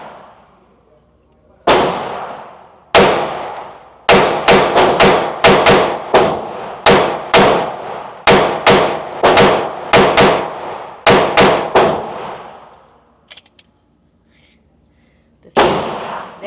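A ported CZ P10C pistol fires sharp, loud, close shots, first two single shots, then rapid strings and pairs of shots, each followed by a ringing decay, ending with one last shot after a pause.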